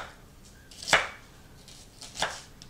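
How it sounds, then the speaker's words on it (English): A knife slicing through a red onion on a cutting board, giving two crisp, close chopping strikes about a second apart. "I'm just going to make slices."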